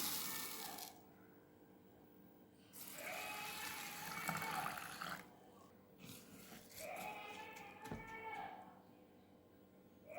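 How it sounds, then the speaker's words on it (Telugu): Water poured from a cup into a bowl over sago pearls comes as several bursts of splashing, filling hiss, with deep lowing calls from cattle sounding in between. "ఈ కప్పుతో మనం మునిగినంత వేరే బౌల్లో వాటర్ పోసుకోవాలి"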